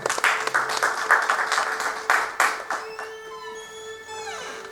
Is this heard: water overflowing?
no